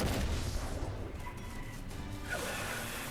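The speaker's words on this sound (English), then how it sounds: "Explosion" An explosion in RuneScape: Dragonwilds: a loud, broad blast opens and then rolls into a rumbling, noisy tail that slowly fades, with a faint whooshing swell near the end.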